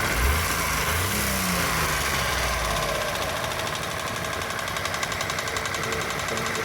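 Suzuki Cultus car engine running at idle after engine work, a steady close mechanical hum with light rhythmic ticking, heard alone without speech.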